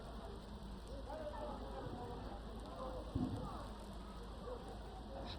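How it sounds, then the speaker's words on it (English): Steady rain falls on the pitch during a CAF COSAFA women's club football match between Mamelodi Sundowns Ladies and Double Action Ladies, a constant dense hiss beneath a commentator's voice, with one brief thump partway through. "The rain getting a little stronger."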